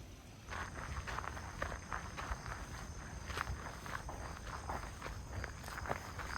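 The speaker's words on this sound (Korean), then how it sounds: "바스락거리는 발자국 소리" Rustling footsteps crunch steadily along a quiet forest trail beneath dense pine trees, a continuous close shuffle of feet over the path with a soft wind backdrop and no talking.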